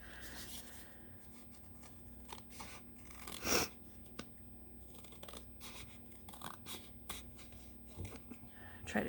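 Close, quiet snips and scraping of scissors cutting paper, with one sharper crisp cut standing out among softer rustling.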